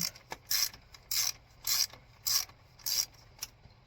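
A ratchet wrench clicks in short repeated bursts, about six strokes in steady rhythm, tightening bolts on the thermostat housing of a Toyota 4Runner; close and fairly quiet, with no speech.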